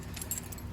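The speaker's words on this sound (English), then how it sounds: "Let's see, do I have keys?" Keys jangle in a short, close burst of metallic chinks while someone rummages for the keys to a 2000 Neon, with no talking over it.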